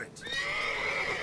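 Roach, the horse in The Witcher 3, gives a single loud, close whinny that holds steady for about a second, with no talk over it.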